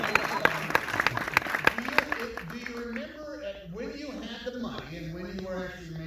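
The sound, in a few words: audience applause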